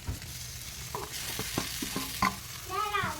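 A spoon stirs mashed potatoes into a fried spice masala in a pan, giving soft scraping and clinking strokes over a low background sizzle, with a few brief tonal clatters partway through.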